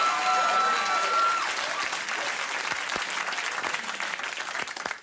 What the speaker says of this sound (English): It got delayed applause, yeah.